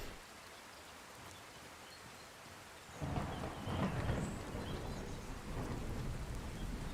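Rain pours steadily in Skyrim, a soft hiss that swells into a deep thunder rumble about midway, with heavier rain continuing to the end.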